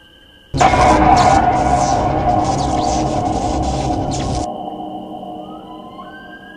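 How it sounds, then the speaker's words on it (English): A loud, eerie bell tolling tone swells suddenly and holds with a dense, wavering resonance before cutting off, leaving a faint hum. "It's just a spooky bell sound."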